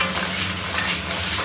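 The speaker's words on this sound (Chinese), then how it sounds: "继续煸炒，把这个尾骨上面的水汽炒干以后呢" Pork tail bones are stir-fried in a wok after being coated in caramelised sugar, giving a steady, close sizzle with continuous stirring and scraping and no talk.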